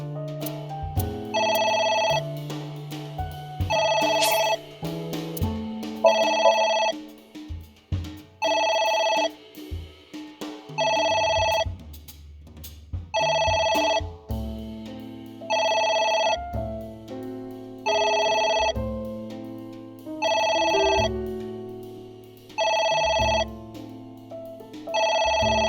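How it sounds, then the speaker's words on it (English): Telephone in the video game AI: The Somnium Files ringing in a long run of regular electronic bursts, about ten evenly spaced rings over a low game music backdrop. "It's ringing again."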